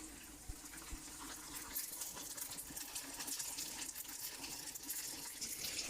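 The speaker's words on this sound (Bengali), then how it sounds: "এভাবে আমরা একটা করে ডুবো তেলে সব ছেড়ে দেবো।" Aloo puris deep-fry one at a time in hot oil, giving a faint, continuous crackling sizzle with scattered pops, heard alone without talk.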